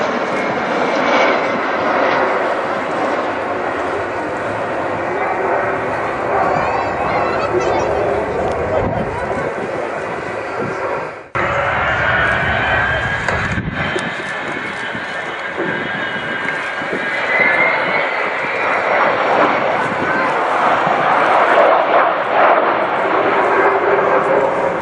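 An Avro Vulcan B2 jet bomber flies over an air show, a loud, sustained roar that swells and shifts in pitch as it passes, with someone talking steadily over it.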